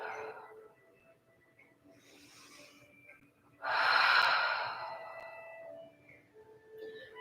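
Slow, audible breaths during a lying yoga twist, a quiet intake followed by a louder, longer exhale lasting a couple of seconds.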